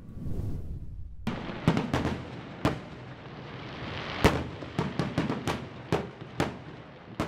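Fireworks explode during New Year festivities, a rapid irregular series of sharp cracks and bangs, some close and loud, others fainter, over a constant rumbling background.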